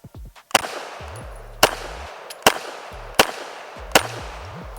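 A KRISS Vector Gen 3 fires single shots outdoors at a range, five or six sharp, loud cracks spaced irregularly about a second apart, each followed by a brief echoing tail.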